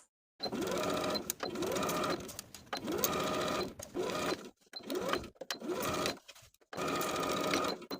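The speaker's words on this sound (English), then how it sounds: "Then we'll baste around each armhole with a 1/4 inch seam allowance." Short, close bursts of sewing machine stitching baste around a dress armhole at a 1/4 inch seam allowance, starting and stopping several times with brief silent gaps.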